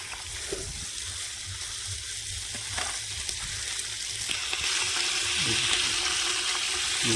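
Freshly flipped fish fries in pure ghani oil, a steady close sizzle that swells louder toward the end, with faint scraping and a few soft knocks beneath.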